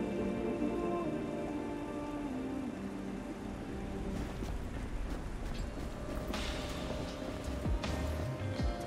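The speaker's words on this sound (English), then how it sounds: "Oh my god, it's raining." Steady rain falls in the video game Honkai Impact 3rd, a soft constant patter on surfaces with scattered drips and faint creaks, low in level and continuing throughout without voices.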